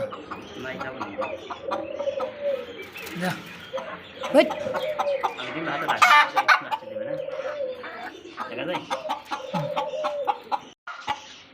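Polish Cap chickens at a Bangladeshi poultry and pigeon market give short repeated clucks and calls among other birds, with people talking nearby throughout.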